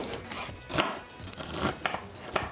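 A knife chops onion on a board for a turkey veggie goulash: several quiet, irregular thuds close by, with soft scraping between them.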